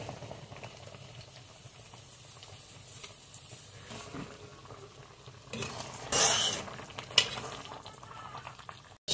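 A pot of curry broth for pangas fish bubbles and sizzles quietly, then fish pieces drop in with a sudden louder splash and a brief clatter, and the simmering carries on.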